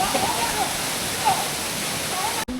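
Irpu waterfall in Kodagu pours steadily as a dense, even rush of water close by. Faint voices sit under it, and the sound cuts off abruptly at the end.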